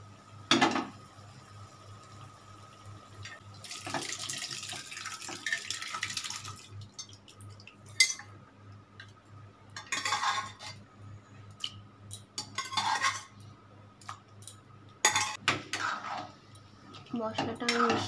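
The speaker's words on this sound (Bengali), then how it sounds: "মশলাটা আমি মিশিয়ে দিচ্ছি ভালো করে।" Spoon stirring ghugni with onion, garlic and masala in a pan, scraping and clinking in scattered bursts at close range, with faint background noise between.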